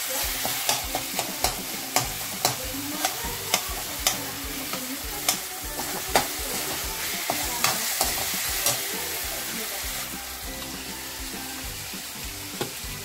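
Tomatoes fry and sizzle in a pan in a village-style kitchen while a utensil stirs them, with a steady hiss and regular scraping knocks close by, no voices.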